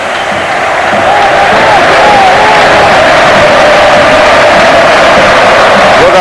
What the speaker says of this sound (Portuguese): Muito aplaudido o jogador Camps.